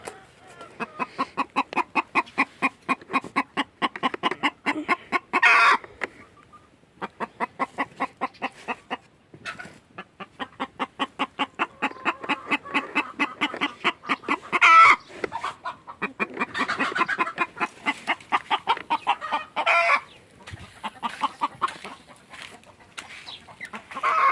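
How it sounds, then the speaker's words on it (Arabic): Free-range hens clucking inside a poultry house, close and continuous rapid clucking with a few louder squawks through the stretch, no talk. "كذلك هنا دجاجة كتبيض."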